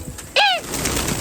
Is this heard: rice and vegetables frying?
no